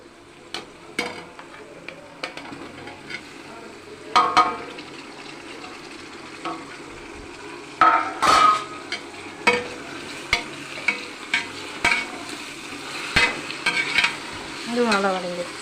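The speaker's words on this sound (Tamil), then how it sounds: "தக்காளி, வெங்காயம், பச்சை மிளகாய், புதினா மல்லி நல்லா வதங்குது." Tomato, onion, green chili and mint sauté in a pan while cooking biryani, a soft sizzle beneath sharp irregular spatula scrapes and knocks against the pan, close and fairly loud.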